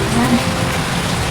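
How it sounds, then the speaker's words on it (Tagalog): Heavy monsoon rain pours down steadily during a habagat downpour, a dense, loud hiss of drops striking surfaces that fills the short stretch without pause. "Grabe naman ang ulan ito."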